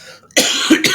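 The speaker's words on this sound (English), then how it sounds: "I'm almost over this crappy cough and sickness" A man with a lingering illness coughs sharply twice, close and loud, with a short gap between the coughs.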